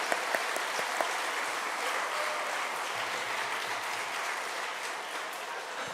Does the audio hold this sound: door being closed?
no